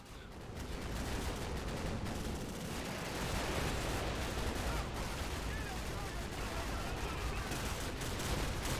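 Sustained heavy machine gun fire in Call of Duty: Modern Warfare roars continuously with dense, rapid bursts, loud and close, with occasional voices mixed underneath.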